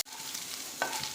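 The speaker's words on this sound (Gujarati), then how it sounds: "અને તેને હલાવી લઈશું।" Hot oil tempering with cumin and ginger-garlic paste being stirred in a pan, a steady close sizzle with a brief scrape of the spoon partway through.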